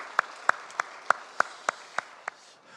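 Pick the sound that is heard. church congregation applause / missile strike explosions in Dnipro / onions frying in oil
church congregation applause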